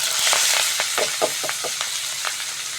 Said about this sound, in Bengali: কড়ার মধ্যে তেল দিয়ে প্রথমে যুক্তি ফুল করলা আর বেগুনটা ভেজে নেব।